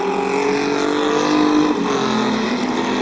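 Race trucks roar around the Midvale Speedway track, a loud, continuous engine drone with shifting pitch as they pass close by, steady throughout with no talking.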